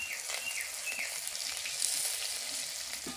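Steady, quiet sizzling and crackling of vegetables frying in hot oil in a wok, with faint scraping now and then and no voices.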